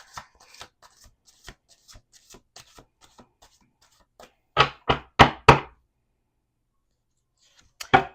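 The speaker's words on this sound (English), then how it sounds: "One more shuffle, last shuffle" A deck of tarot cards is shuffled on a table, starting with soft scattered riffles and then four loud, distinct card slaps in quick succession, with one more snap near the end and no voices.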